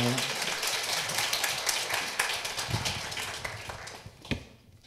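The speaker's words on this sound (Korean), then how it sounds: "우리 교수님 나오실 때 힘차게 박수하겠습니다." A church congregation applauds to welcome a professor to the pulpit: dense, steady clapping that fills the room and tapers off near the end, with a voice over it.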